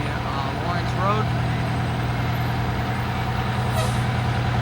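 Fire trucks roll past in a Memorial Day parade, a steady low engine rumble with brief air-brake hisses and chirps, heard at moderate distance over outdoor crowd noise and talk.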